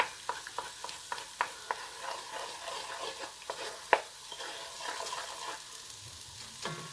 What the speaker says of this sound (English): I can put my eggs right down in there. And scramble them right in there.